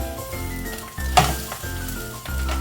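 An egg fries in a hot pan, with a steady close sizzle and a light clink of a utensil against the pan partway through.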